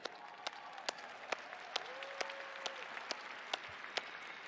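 A conference audience applauds after a talk, with sharp, evenly spaced claps ringing out in a steady rhythm against a quiet room.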